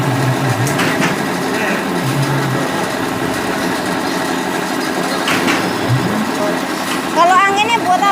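A sack screen-printing machine driven by compressor-fed pneumatics runs with a steady mechanical drone and faint rhythmic clatter, while people converse nearby over it.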